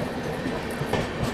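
UP Sampark Kranti passenger train running on the Delhi to Manikpur route while overtaking another train, with a loud steady rumble and rhythmic clatter of wheels heard from on board.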